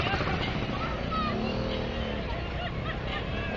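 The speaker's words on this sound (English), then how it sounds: "Sounds like a moped, that one. 250cc, two-stroke." A 250cc two-stroke engine at a steam show, running steadily with a buzzy, moped-like note, fairly close, with voices talking over it.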